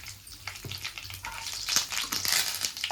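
Asafoetida is stirred into a raw mango pickle, giving a steady close scraping and crunching of a spoon through chunky mango pieces in a mixing bowl, continuous and fairly loud with no speech.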